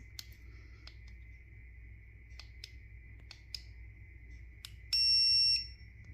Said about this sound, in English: I think it just has the one beeping sound